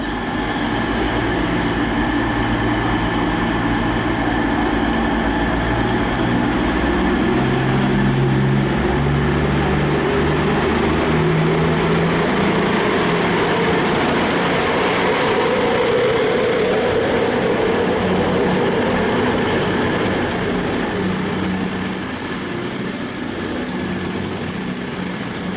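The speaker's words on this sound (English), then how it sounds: "departing now is the 1115 cross-country service from Newcastle to Plymouth, formed of 221139" Cross-country Class 221 diesel train departing Bath Spa station, a loud, continuous engine drone with rolling wheel noise and a rising high whine building toward the end.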